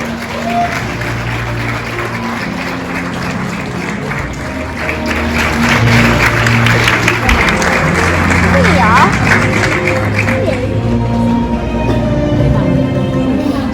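A graduation ceremony audience in Sydney claps steadily for a graduate whose name has just been read, the applause swelling louder midway and continuing alongside a presenter's voice.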